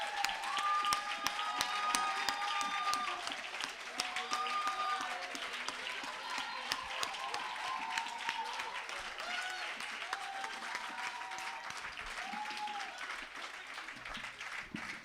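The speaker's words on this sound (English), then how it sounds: "join me in clapping for everyone that is here who has attended these events" Sustained audience applause at a palm wine and poetry festival event, a steady dense clapping wash filling the whole stretch with faint voices and a few whistle-like tones mixed in.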